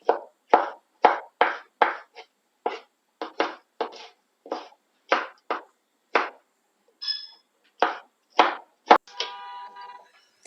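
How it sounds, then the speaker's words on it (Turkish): A knife cuts a tomato into large pieces on a board while a chickpea and black cabbage stew is being prepared. About eighteen close, crisp chops fall in an uneven rhythm, then a short metallic clatter at the end. No voices. "Domatesimizi de iri iri doğradıktan sonra doğrama işlemimiz bitiyor"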